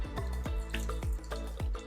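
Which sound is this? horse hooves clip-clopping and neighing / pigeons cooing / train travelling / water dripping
water dripping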